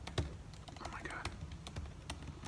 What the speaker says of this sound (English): when you know somebody's watching, you cannot type on your keyboard